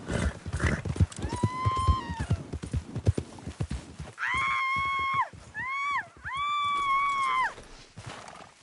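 A horse's hooves clip-clop over rough ground while it whinnies several times, long rising-and-falling neighs standing out loud and close, with scattered voices and shouting mixed in at the start.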